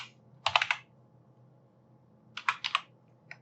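Keys pressed on a computer keyboard, including the Enter key, during work in After Effects: two short, close bursts of crisp clicks separated by near-silence.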